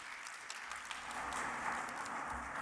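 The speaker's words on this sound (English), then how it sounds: "Please give a big round of applause for Mr. Lee Wausen, everyone." Faint, steady applause from a conference audience at the International Vienna Energy and Climate Forum, a soft continuous patter heard from a distance with no talking.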